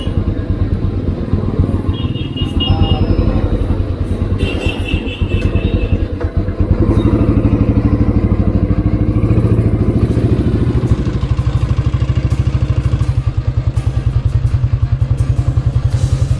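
A 1970 Royal Enfield G2 motorcycle engine thumps loudly and close by after starting, a rapid, even single-cylinder beat with mechanical clatter that holds steady throughout.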